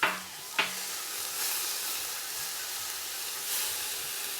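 Ginger, garlic, star anise and cinnamon stick frying in a pot, heard as a steady hissing sizzle with a couple of sharp knocks from stirring near the start, close and continuous, with no speech.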